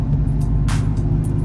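A 2018 Dodge Challenger accelerates, a deep, steady engine drone heard close from inside the car, with a brief rush of noise partway through.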